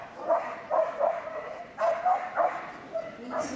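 Agility dog at Crufts barks repeatedly in quick, sharp yips, about seven or eight barks at a steady rhythm within a large, echoing arena, moderately close over a murmur of crowd noise.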